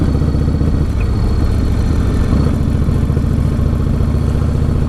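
A 1996 Harley-Davidson Softail rumbles steadily while being ridden, a loud, continuous low engine drone with clattering mechanical texture and no talk over it.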